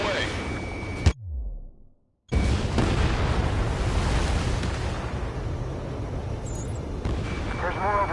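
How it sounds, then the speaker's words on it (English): Missile fired in the jet combat game Ace Combat 7, a loud whoosh cut off by a sudden drop to silence, then a heavy roaring blast that rumbles on for several seconds, with voices heard over the game sounds. "Missile away."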